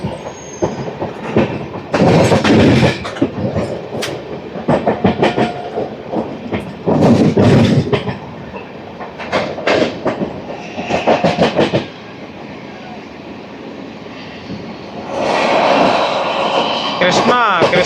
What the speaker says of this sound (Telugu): కృష్ణ ఎక్స్ప్రెస్ ఇది.